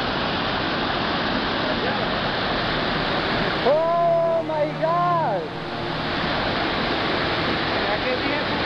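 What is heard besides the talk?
waterfall, Salto de Apa, Chaparral, Tolima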